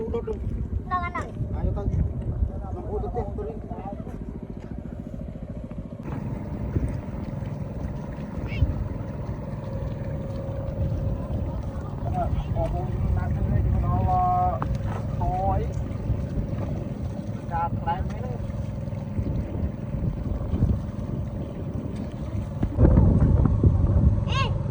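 A loud boat engine drones steadily at close range on the water, a low rumbling hum lasting throughout, with wind buffeting the microphone and people talking over it.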